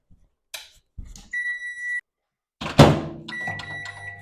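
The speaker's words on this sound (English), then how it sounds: "Microwave 2 minutes and then we'll be ready to go with that" A microwave oven heats a turkey mince meal, its door clunking and panel beeping in short electronic tones, several beeps in two bursts with a loud thunk between, close and clear with no talking.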